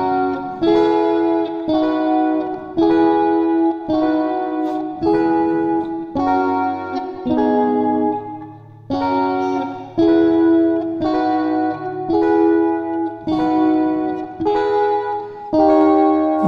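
Electric guitar run through effects plays the bridge of a song, a steady rhythmic pattern of strummed chords with a sustained low note underneath, loud and close with distortion, chorus and reverb, no voices.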